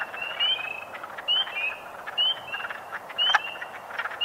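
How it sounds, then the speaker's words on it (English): Spring peeper frogs give short, high ticking calls in the background, four spaced bursts over a bed of chorusing wood frogs at a springtime park pond. "That's the spring peeper."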